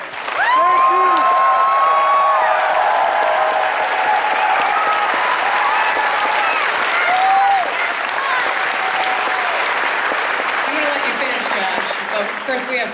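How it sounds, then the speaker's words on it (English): Sustained, loud applause from a large audience at a BronyCon 2016 convention closing ceremony, continuous clapping with some cheering and whistles, steady throughout and fading slightly toward the end. "Please give them one more round of applause."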